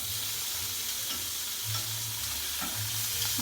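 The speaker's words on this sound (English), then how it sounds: "these are releasing from the bottom of the pan, so let's flip them over" Scallops sear in a hot pan with lemon, garlic and wine on the way. A close, even sizzle runs throughout, with low scraping knocks as they are turned over.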